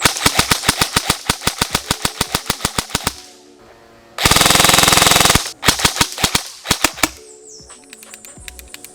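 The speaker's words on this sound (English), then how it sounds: "this time I'm gonna do some really fast semi-shooting, and then I'm gonna show you what full auto looks like" A KWA Ronin 47 M4/AK hybrid airsoft rifle fires a long run of rapid, evenly spaced semi-auto shots, then a loud solid burst of full-auto, followed by a few more shots and mechanical clicking as the gears jam.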